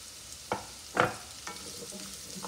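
Squash is stirred in a sizzling cooking pan, with a few distinct scraping pushes of a utensil over a soft, constant frying hiss, close by and without speech.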